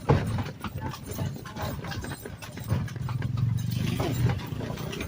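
A horse pulling a kalesa carriage, hooves clip-clopping in a steady close rhythm over street noise, with faint voices in the background.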